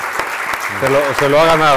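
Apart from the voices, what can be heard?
audience applause for Javier Gomá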